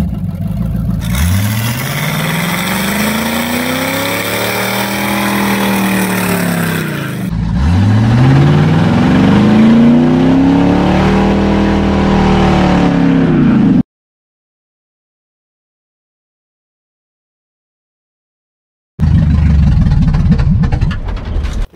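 A Camaro engine revving hard during a burnout, loud and close, rising and falling in long sweeping pulls, then cutting out to silence before roaring again.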